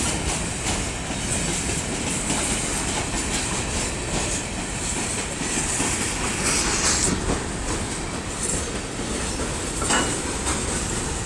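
BNSF 9023 freight train rolling through Effingham, Illinois, with a loud, close, continuous rumble and rhythmic wheel clatter holding steady throughout, no voices.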